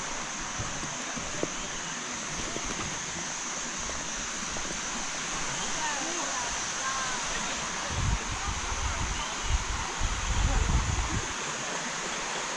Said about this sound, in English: No, the waterfall's in here.